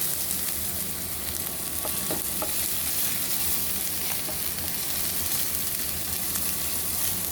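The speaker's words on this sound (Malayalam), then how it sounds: "ഇഞ്ചിയും വെളുത്തുള്ളിയും രണ്ട് കതിരി വേപ്പലയും കൂടി ഇട്ടതാണ് കേട്ടോ ഇതൊന്ന് റോസ്റ്റ് പരുവം വരെ ഒന്ന് ഇളക്കണം" Ginger, garlic and curry leaves roast in a pan with steady sizzling and hiss while a spoon stirs, giving a few soft scraping knocks over the constant frying noise.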